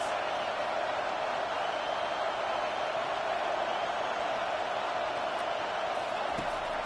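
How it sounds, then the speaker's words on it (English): Constant roar of a stadium crowd in a college football video game, TCU versus Alabama, a dense steady wash of noise with no pauses from start to finish. "This crowd trying to make life miserable for this offense."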